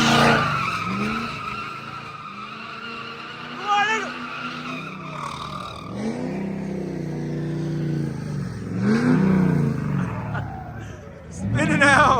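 A muscle car spins out at a street takeover, its engine revving in long rising and falling sweeps while the tires squeal and skid loudly and close by, with people talking over the noise.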